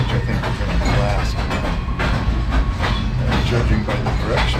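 Freight train rolling through a rail yard, a steady heavy rumble with continuous wheel and car noise, close and loud throughout, no talking.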